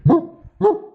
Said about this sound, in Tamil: நாய் அவுத்துக்கிட்டு வந்துருச்சு டி. கொலைக்கிற சத்தம் கேக்குது